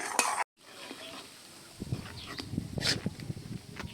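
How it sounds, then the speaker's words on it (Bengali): A spoon stirs sugar into thickened kheer in a pot, giving soft scraping and dull knocks after a brief moment of silence, with a faint bubbling hiss underneath. "চিনিটা দিয়েও আমি বেশ সুন্দর করে নেড়ে চেড়ে ভালোভাবে মিশিয়ে নেব।"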